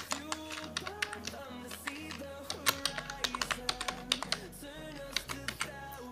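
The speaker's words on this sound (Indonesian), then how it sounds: "Silakan ketik topik sesi." Typing on a computer keyboard while entering a topic for an online class session, a run of distinct key taps at an uneven pace, heard faintly under background music.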